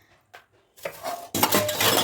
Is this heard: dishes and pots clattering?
yes